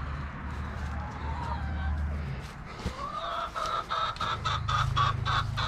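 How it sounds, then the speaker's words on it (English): Chickens cluck and squawk at close range on a rural property in Tennessee, with someone speaking over the repeated calls and a low background hum. "And there's more chickens."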